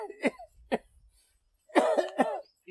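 An elderly man with a cold, fever and breathlessness coughs in short, close bursts: two dry single coughs, a pause, then two harsher, longer coughing fits.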